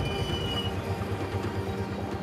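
A grain freight train rolls along a Rocky Mountain railroad, its steady low rumble and rail noise continuous and fairly distant throughout, with faint wheel squeal above the droning engine hum.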